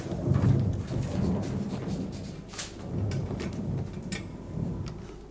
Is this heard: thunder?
yes